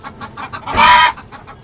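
A native Bangladeshi hen on a rooftop poultry farm gives one short, loud cluck near the middle, with softer clucking around it and no talk.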